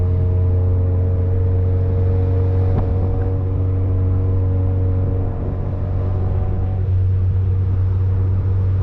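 An Audi car engine hums in a steady low drone, loud and constant throughout, with no talking.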